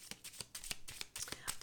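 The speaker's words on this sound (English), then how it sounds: "shuffle really quickly the Lenormand deck" A Lenormand card deck shuffled quickly by hand, giving a run of soft, rapid riffling bursts close up with no voice over it.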